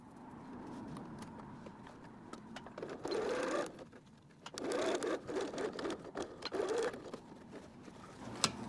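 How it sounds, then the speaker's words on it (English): A sewing machine stitches an invisible zipper on a garment, whirring steadily in several short runs with brief pauses between, close and moderately quiet, with no talk. "I want to start down here and sew towards that stitching as close as I can get and as straight a line as I can"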